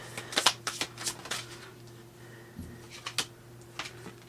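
Tarot cards shuffled close up in a short series of soft flicking riffles and taps over a faint steady hum, with a brief pause midway before a few more quick shuffles.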